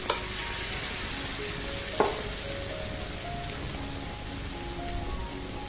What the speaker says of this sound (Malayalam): മാവ് ഒഴിച്ച ശേഷം മീഡിയം ഫ്ലെയിമിലേക്ക് വയ്ക്കണം, അല്ലെങ്കിൽ അതിൻ്റെ ഉൾഭാഗം വേകാതെ ഇരിക്കും